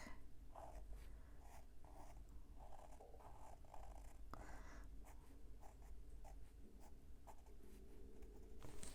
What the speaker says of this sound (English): Let's just draw some quick.